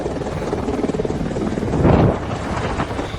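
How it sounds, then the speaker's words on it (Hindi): Three Apache helicopters landing at an Indian air base in Ghaziabad, a steady loud rotor and engine roar that swells briefly in the middle, with no voices. "अमेरिका से हिंदुस्तान पहुंचे 3 अपाचे हेलीकॉप्टर गाजियाबाद के इंडियन एयरबेस पर गरजते हुए उतरे।"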